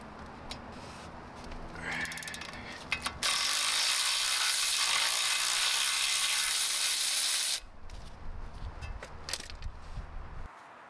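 A ratchet loosens a sway bar link nut on a 2004 Mercury Grand Marquis during front strut replacement, giving a loud, steady stretch of rapid clicking between quieter workshop sounds.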